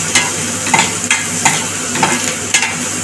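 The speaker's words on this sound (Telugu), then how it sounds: "వీటిని కూడా కొద్దిగా సాసేట్ చేసుకోవాలి." Onion and capsicum pieces sauté in a hot pan for chilli chicken, giving a steady close sizzle with regular scraping stirs about every half second.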